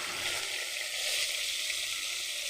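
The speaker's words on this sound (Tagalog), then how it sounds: "Fried chicken naman ang ating lulutuin." Chicken frying in hot oil: a loud, steady close-up sizzle with dense crackling and no talk.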